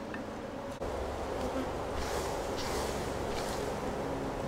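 Honeybees in a healthy open hive make a dense, steady, close buzzing drone that fills the whole clip without pause.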